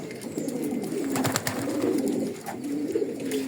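Pigeons coo close by in a loft, including a young khaki pigeon, with soft repeated throaty calls that rise and fall in a gentle rhythm and no voices over them.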